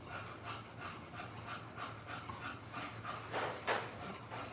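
A dog pants in steady, rhythmic breaths close by, with a soft rubbing scrape near the end and no talking.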